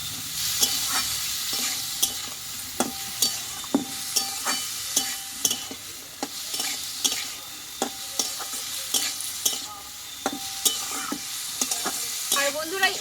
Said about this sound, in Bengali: এবার কেটে ধুয়ে রাখা কাঁঠালের দানাগুলো আমি দিয়ে দেবো দিয়ে একসঙ্গে ভালোভাবে বন্ধুরা আমি একটু এভাবে নাড়িয়ে নেবো